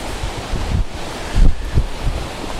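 Strong outdoor wind buffets the microphone, a continuous low rumbling roar with gusty surges, no speech over it.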